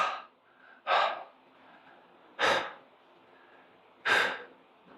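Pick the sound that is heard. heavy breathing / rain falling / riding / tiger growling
heavy breathing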